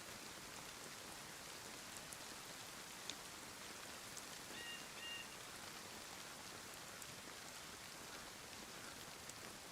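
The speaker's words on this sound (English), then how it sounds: "It'll stop raining soon." Steady rainfall in the survival video game DayZ, a dense even hiss of raindrops on surfaces with faint scattered ticks, continuous and quiet, with no voices.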